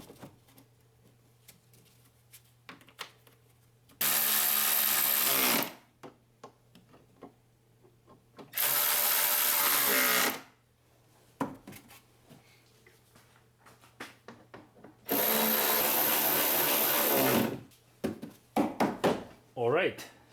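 A power tool runs bolts back into a plastic cover on a 1.9L VW Beetle in three loud, whirring bursts of a few seconds each, separated by quiet stretches with light clicks and handling noises.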